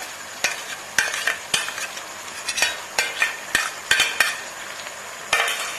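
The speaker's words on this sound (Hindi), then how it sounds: "अब मैं इसमें ये लहसुन अदरक का पेस्ट डाल दूंगी।" Garlic-ginger paste and browned onions fry in a pan under a soft sizzle, punctuated by sharp, regular knocks and scrapes of a spatula stirring against the pan, up close and without talk.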